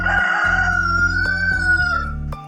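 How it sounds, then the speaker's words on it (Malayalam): A rooster crows loudly nearby in one long drawn-out call, with a low steady hum underneath. "കോഴിന്റെ സൗണ്ട് കേട്ടു."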